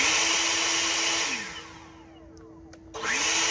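EGO 650 CFM battery leaf blower on turbo: a loud, close, steady rushing whine that winds down and fades, then quickly spins back up.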